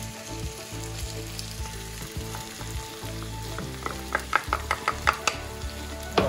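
Potatoes and onions fry in a pan for a Sri Lankan potato roast, giving a constant near hiss with an underlying hum, then a quick run of sharp taps and clicks near the end, with no one talking.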